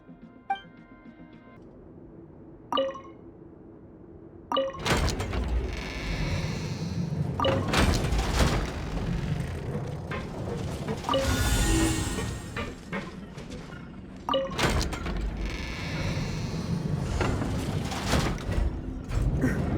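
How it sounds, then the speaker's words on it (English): In the video game Genshin Impact a heavy door opens: a few sharp clicks and clunks give way to a long rumbling, grinding slide that surges and settles in waves over several seconds. "The door's open."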